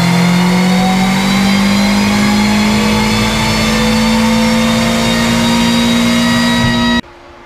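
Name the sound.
Renault 5 GT Turbo engine revving on a dyno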